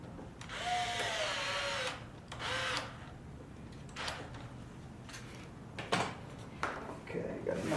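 A power drill drives a screw while a router table and stand are assembled, giving several short whirring bursts separated by pauses and clicks, close and moderately loud.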